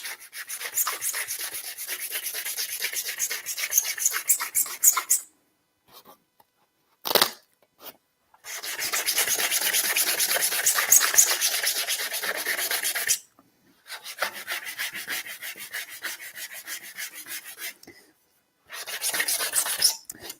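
Wood coated in ebonizing lacquer is sanded with 240 grit sandpaper in repeated close, scratchy back-and-forth strokes, broken by a few short pauses and quick brushes.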